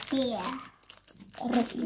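Plastic bag tied with an elastic band being opened, close crinkling and rustling between and under children's excited speech.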